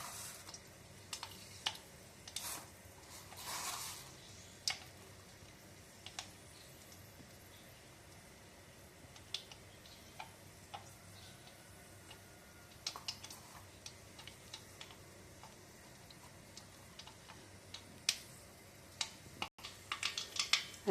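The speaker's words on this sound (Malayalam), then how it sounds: "നമുക്ക് കടുക് ഇട്ട് കൊടുക്കാം." Mustard seeds popping in well-heated coconut oil for a dried bilimbi pickle tempering, giving scattered sharp crackles and pops, sparse at first and then more frequent, with no talking.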